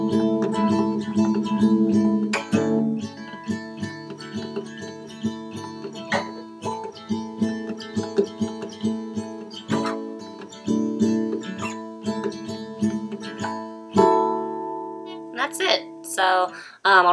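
Acoustic guitar plays the bridge of a song with strummed and picked chords in a moderate rhythm, close and clear, ending with a few lighter plucked notes.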